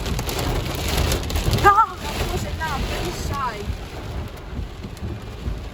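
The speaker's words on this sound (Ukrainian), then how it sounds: "Походу пішов град." Hail falling during a thunderstorm, a dense, steady patter of hard pellets drumming on a nearby surface for the whole stretch, with a brief voice rising partway through.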